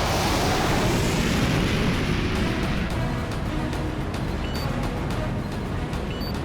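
Deep, sustained explosion rumble from an action film's disaster scene as a magnetic discharge erupts inside a fault, a loud roaring blast filling the low end throughout, with faint crackles and debris hiss fading slightly toward the end.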